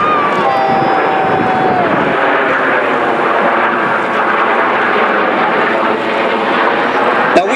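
Red Arrows jets at the Malta Airshow 2014 give off a continuous loud roar that fills the whole stretch, holding steady with slight swells.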